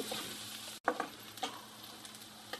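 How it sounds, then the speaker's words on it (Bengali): Butter and oil frying in a pan for a homemade chicken burger, a bright crackling sizzle interrupted by a brief silent gap, then scraping stirs and spitting pops, close and moderately quiet. "এখন আমি এটাকে হালকা করে ভেজে নিব, একদম বেশি করে ভাজবো না কিন্তু।"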